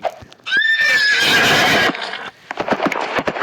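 A horse in a Roblox game gives one loud, close whinny lasting over a second, followed by a trailing breath and a patter of quick clip-clop hoofbeats.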